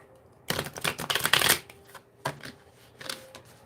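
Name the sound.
shuffling a Spirit Halloween oracle card deck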